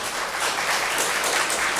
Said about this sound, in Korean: 큰 박수로 환영해 주시기를